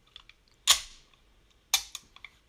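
A CZ 75 pistol's slide stop snaps into place: two sharp metallic clacks about a second apart, close and crisp, followed by faint handling clicks.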